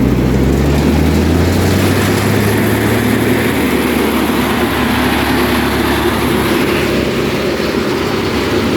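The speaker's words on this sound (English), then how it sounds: "You'll hear the engine bog down a little bit" A Chuck n Duck machine engine roars loudly and steadily under load, its low drone dipping and sagging as it bogs down, then holding a dense, continuous mechanical rumble close by, with no one speaking.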